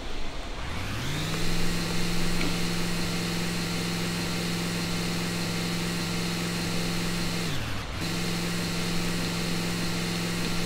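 A steady car engine drone in the video game Amazing Frog, holding an even pitch that dips and winds back up once near the end, loud and continuous with no talking.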